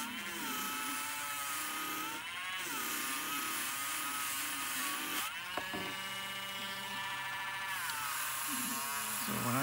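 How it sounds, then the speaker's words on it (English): A small Dremel rotary tool with a pad whines steadily at high pitch while cleaning the pins of an SNES circuit board, its tone dipping and rising as it presses on the pins, close and continuous. "I have a little Dremel tool with a rotary pad. Pretty, anyways, I'm just going to clean the pins real quick."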